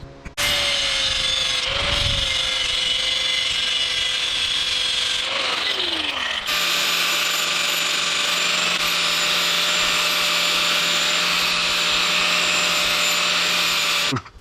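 A power tool cutting off the rear fender bracket of a 2008 Suzuki DR650 motorcycle, a loud close whine that dips in pitch as it bites, then settles into a steady high grinding drone.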